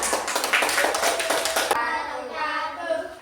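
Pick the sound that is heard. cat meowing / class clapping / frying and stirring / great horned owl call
class clapping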